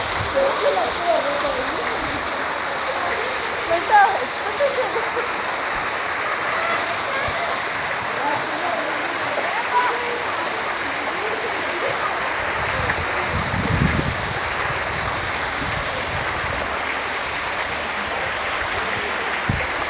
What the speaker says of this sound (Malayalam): അത് ചെറിയൊരു വെള്ളച്ചാട്ടമാണ്.